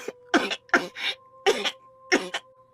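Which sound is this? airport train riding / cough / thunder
cough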